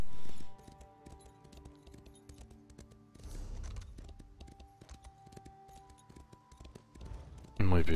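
Horse hooves clip-clop in a steady rhythm while riding in Elder Scrolls Online PvP, moderately loud under game sounds, with a loud burst near the end.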